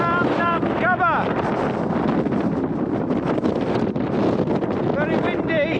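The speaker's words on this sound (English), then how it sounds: "I have to say that wind is absolutely horrendous." Strong wind roars and buffets the microphone nonstop on a Scottish mountain col near Carn nan Gobhar, loud and close, with a voice faintly breaking through at moments.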